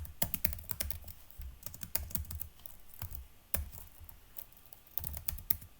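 Fingers typing C code on a computer keyboard, a steady run of close, crisp key clicks with irregular rhythm and a few heavier keystrokes.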